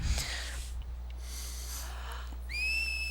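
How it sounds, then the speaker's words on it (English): A rising, sustained whistle from Yuna in the video game Final Fantasy X, heard near the end over a steady low in-game hum, preceded by softer breathy game sounds. "she figured out how to do the whistle"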